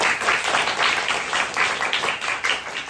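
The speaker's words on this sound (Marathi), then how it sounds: "ह्यांचं जोरात टाळ्या बाजून स्वागत केलं" An audience at a school event claps together to welcome a parent, a dense, lively burst of applause at full strength for the whole stretch, no one speaking over it.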